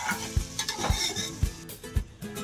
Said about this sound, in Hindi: अब इसको तेज़ आंच पर इतना फ्राई करेंगे कि चिकन का रंग हमारा सफ़ेद हो जाए।